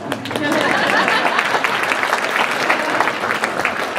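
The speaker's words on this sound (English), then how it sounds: "This is for applause." Audience applause at a public discussion of Wall Street regulation, a full room clapping steadily, swelling quickly and holding strong before easing slightly near the end.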